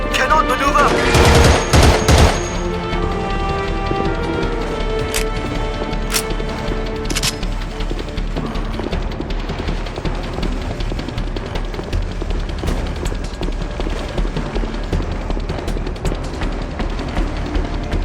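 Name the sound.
gunfire in Battlefield 2: Modern Combat video game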